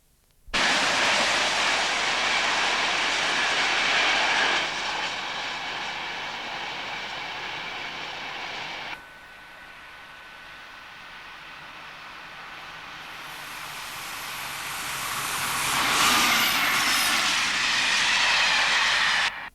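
A train of empty RMC wagons runs along a long straight line near Padley Woods on the Sheffield to Peak line, a loud continuous rolling rumble with rail clatter that eases midway and then swells again as the wagons pass close.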